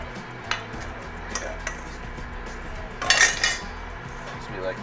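Flour is worked into stiff cookie dough in a bowl, with a utensil scraping and clinking against the bowl in short strokes and a brief louder burst of scraping partway through.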